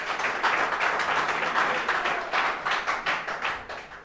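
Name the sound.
students clapping in a classroom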